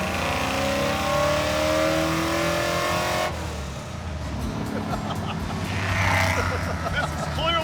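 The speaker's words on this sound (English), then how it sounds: "It's really loud in that car." Race car engine roars loudly inside the cabin, steady harmonic drone that drops off sharply midway and gives way to rough rumbling and road noise, with voices talking over it.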